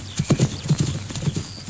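Horse hooves clip-clop in an uneven trot, close and distinct, about a dozen hollow knocks tumbling over each other with no talk.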